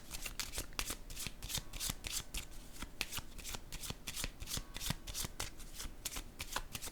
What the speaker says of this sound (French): Je vais déposer une carte sur la créativité.